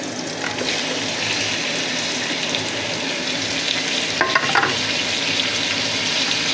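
Chili and tomato go into a hot pan for tilapia sinigang with lemon, a dense continuous sizzle and crackle of frying, with brief stirring scrapes near the end.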